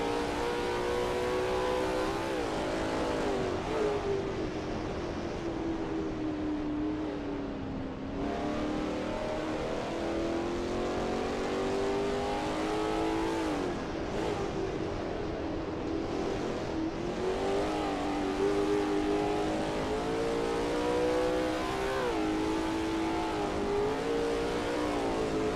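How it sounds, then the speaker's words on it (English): A Lola T70 MkII Spyder race car in a racing game sweeps through Bosch curve at the Österreichring, its engine holding a steady, loud drone with rising and falling revs through gear changes, continuous and close with no talking. "That ASRL T70 MkII Spyder looks good driving through Bosch curve."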